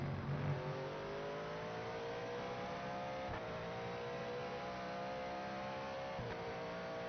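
A race car in Project Motor Racing holds a high, steady engine drone as it accelerates, pitch climbing gradually with brief dips at gear changes, loud and continuous without talk.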